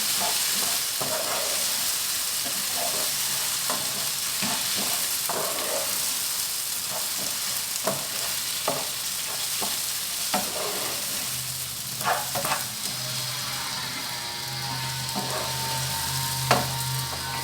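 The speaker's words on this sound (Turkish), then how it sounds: "Şöyle biraz kavuracağım." Chicken sautéing in a pan: a steady loud sizzle throughout, with repeated scraping and knocking of a utensil as it is stirred, and no voices.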